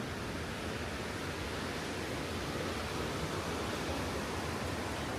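A waterfall beside the Marienbrücke bridge near Neuschwanstein Castle in Germany, heard as a steady, even rush of falling water that stays at a constant level throughout with no voices.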